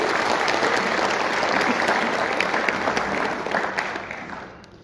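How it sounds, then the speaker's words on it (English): An audience at a Utah State Senate District 22 candidate debate gives a loud, sustained round of clapping that fills the room, then thins and fades out at the end. "Let's give them a round of applause."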